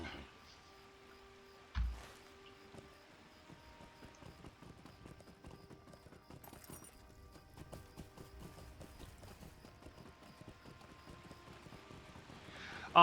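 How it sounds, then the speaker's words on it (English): Steady clip-clop of horse hooves at a brisk pace in Lord of the Rings Online, moderately loud, with a sharp thump near the start and faint background tones throughout. "Let me get on my horse and get back to camp."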